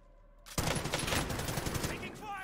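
Call of Duty gunfire erupting suddenly after a quiet moment, a loud sustained volley of rapid automatic shots rattling on close and continuous, with a voice heard faintly in the mix.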